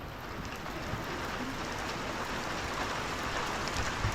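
Steady rain falls on a rural house during dark, overcast weather, a dense, even hiss of drops hitting surfaces at moderate distance with no pauses or talking.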